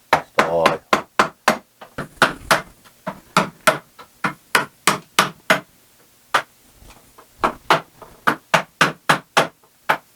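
Hammer blows loosening horseshoe rivets on a horse's hoof, a steady close-up rhythm of sharp knocks that pauses briefly in the middle and then resumes at the same even pace.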